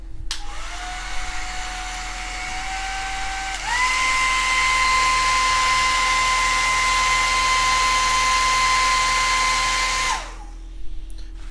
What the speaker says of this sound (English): we're going to use hair dryer real quick